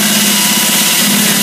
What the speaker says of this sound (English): The reason that I drill a hole and stop halfway is that it gives us a nice hole.